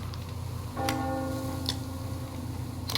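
A bell tolls in a video game, a single struck tone with a long ringing decay that carries for about two seconds over a steady low background hum, fairly distant and not loud.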